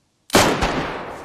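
A single hip-fire gunshot in the survival game DayZ, played with a Tarkov-style mod, cracks loud and close with a sharp attack, followed by a second report and a long, rumbling tail. No voices are heard.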